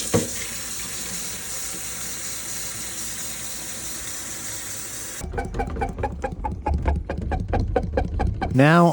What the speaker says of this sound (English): Now I'm just using pure hot water, and I am going to soak this evap coil